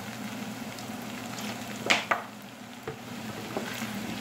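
Oyster mushrooms stir-fried with soy sauce in a pan give a soft, steady sizzle, broken by two or three sharp utensil scrapes near the middle, with no talking.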